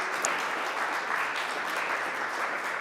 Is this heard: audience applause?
yes